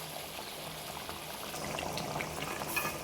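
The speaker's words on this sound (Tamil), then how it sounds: "ஒரு அரை கிளாஸ் தண்ணி சேர்த்து இப்போ அது கொதிச்சு வந்துக்கிட்டு இருக்குது" A pot of South Indian lentil ball curry (paruppu urundai kuzhambu), thinned with half a glass of water, simmers at a steady bubbling boil with soft continuous popping and hissing, close and fairly quiet, with no voices.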